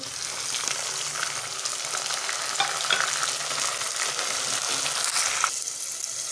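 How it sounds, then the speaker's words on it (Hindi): Chopped tomatoes frying with onions in a pan for a spicy potato masala, a steady loud sizzle with occasional stirring scrapes, no voices. "तो टमाटरों को हम इसके अंदर अच्छे से भूनेंगे ताकि इनका मसाला बन जाए अच्छे से।"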